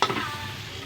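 Garlic hitting a hot pan for a pork nilaga and humba dish, a short burst of sizzle and stirring that settles into a steady close frying hiss.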